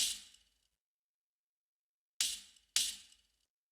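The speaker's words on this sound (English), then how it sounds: "So let's listen to the tambourine on its own." Tambourine loop produced in Ableton, heard alone: three bright jingly hits, one at the start and two close together near the end, separated by silence.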